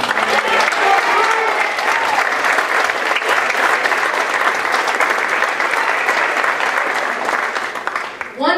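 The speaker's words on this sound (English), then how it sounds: "Thank you very much for your applause and support." Loud, continuous applause from an audience at a middle school short-film premiere and award presentation, a thick wash of clapping that holds for about eight seconds before trailing off.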